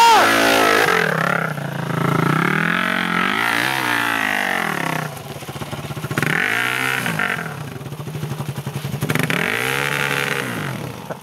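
An enduro motorcycle engine revs hard on a trail, loud and close, with rising and falling throttle sweeps and a rough clattering idle between pulls. Voices shout briefly over the engine.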